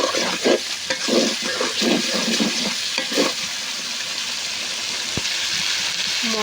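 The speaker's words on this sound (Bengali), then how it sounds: "মশলাটা একটু সুন্দর করে কষিয়ে নেব।" Spice masala for chicken curry frying with a splash of water, a loud bubbling sizzle with rhythmic stirring scrapes over the first few seconds, then settling into an even hiss with one sharp knock near the end.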